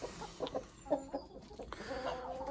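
Hens cluck softly in short, scattered bursts, fairly close and quiet, with a few overlapping calls from several birds.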